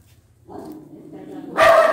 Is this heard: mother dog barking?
yes